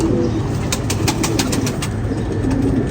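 Female Lalpari pigeon held in the hand, giving soft low cooing against a steady background hiss, with faint wing or handling rustle, close and moderately loud.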